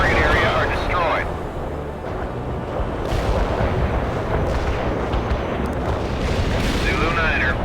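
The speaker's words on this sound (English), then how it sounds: "Coordinates received. Artillery firing." Artillery firing in the World in Conflict video game, loud rolling booms and blasts layered into a continuous barrage while voices talk over the radio.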